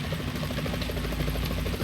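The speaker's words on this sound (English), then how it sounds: "Is that a chopper I just heard?" Helicopter in the video game Metal Gear Solid 2, a steady loud rotor chop with dense low thumping that holds throughout the short stretch, close and continuous with no speech.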